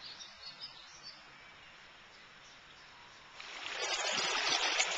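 A trailside brook swollen by the previous day's rain rushes steadily, faint and distant at first, then swelling into a loud, close hiss of running water for the last couple of seconds.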